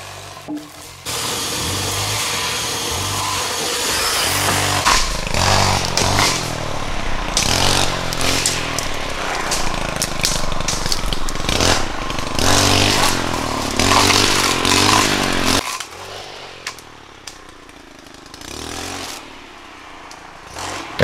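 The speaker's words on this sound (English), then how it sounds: "They use a chainsaw and a weed eater to clear out all the brush around the spring." Chainsaw and weed eater clearing brush around a spring in the woods, a loud sustained engine whine with revving surges and scraping clatter for most of the stretch, dropping away near the end.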